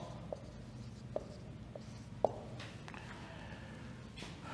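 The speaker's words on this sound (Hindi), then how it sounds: "एक और सेंटेंस लिखते हैं." Chalk or marker writing a sentence on a classroom board during an English grammar lecture: a few scattered taps and short scratchy strokes, fairly faint over a steady low room hum, with no talking.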